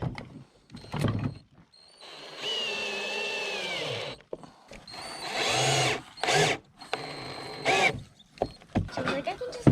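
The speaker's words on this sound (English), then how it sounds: "Put some screws in." Power drill driving screws into a rustic pallet wood cabinet door, with several bursts of whirring motor close by, separated by short pauses and some background talk.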